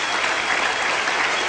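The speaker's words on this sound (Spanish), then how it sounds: "Démosle un aplauso al Señor Jesús." Congregation applause in a church service led by an apostle, a dense, steady clapping from a large crowd that fills the whole moment without a break.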